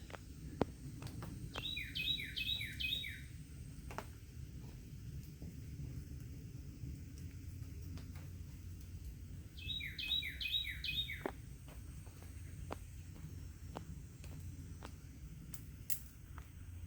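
Birdsong in woodland, with two separate bursts of bright, rapid chirping trills standing out over a steady low rumble and background hum.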